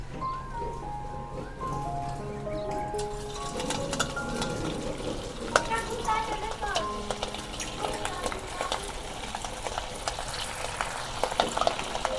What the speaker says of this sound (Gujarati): આપણે એને તળવાનું છે. આપણે તેલ મૂકી દઈશું ગરમ થવા.